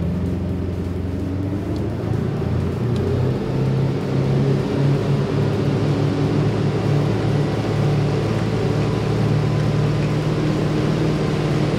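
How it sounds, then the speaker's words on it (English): The stern-drive engines of a Sea Ray 380 Sun Sport boat drone steadily and loudly as it speeds up onto plane, a deep, throaty, constant hum with no talk over it. "Now the engines are just really a lot more throaty, much quieter actually underway."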